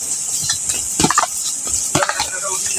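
Fried potatoes are stirred into a thick chicken masala in a pan, producing an oily sizzle under scraping spoon strokes that come in a few louder bursts, close and clear with no voices.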